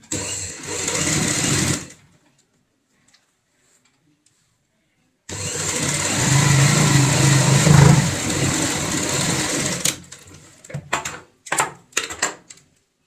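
A sewing machine stitches purse lining along a zipper at home, running in two steady whirring bursts, a short one and then a longer one, before a few quick stop-and-start clicks close by.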